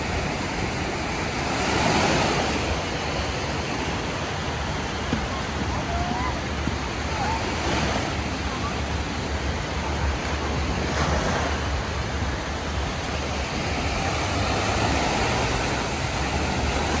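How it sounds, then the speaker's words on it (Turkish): Rough Aegean Sea waves wash onto a beach at Kuşadası, a steady broadband surf roar with some wind buffeting the microphone, swelling gently in several rolling surges with no talk over it. "Deniz epey bir dalgalı."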